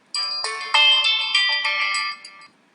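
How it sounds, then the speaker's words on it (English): A stock MIUI (Mi3) ringtone plays through a Samsung Galaxy S3 phone: a bright, melodic electronic chime tune of several sustained tonal notes lasting over two seconds, clear and alone with no talk. "this is how you can add the ringtones that is available with MIUI onto your Samsung Galaxy S3"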